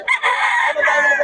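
A loud, close rooster crow at a market, a single drawn-out call with a rising then falling tone.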